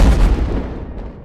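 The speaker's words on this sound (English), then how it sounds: "The missile eventually hits Batman, setting off a massive explosion" A missile strike blows up a building in a massive explosion, heard as a loud, close, rumbling boom that decays into a fading roar.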